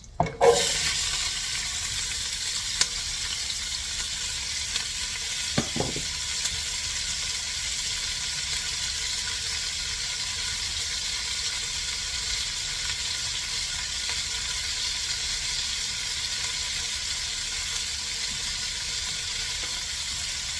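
Chopped vegetables fry in hot oil in a pot, giving a steady, even sizzle that runs the whole time, with a sharp clatter near the start and a brief knock partway through, no voices.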